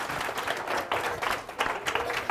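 A small audience gives a brief, scattered round of clapping, moderately faint, with uneven bursts of hand claps rising and falling over a couple of seconds.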